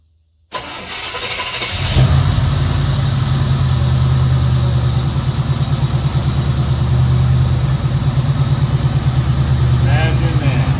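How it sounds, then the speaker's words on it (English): A 1953 Ford engine cranks and catches, then settles into a steady, loud idle with a low rhythmic throb after a power steering repair, with faint voices in the background. "Let me fill it back up with fluid and we'll fire it up for you."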